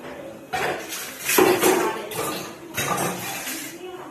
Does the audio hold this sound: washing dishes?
yes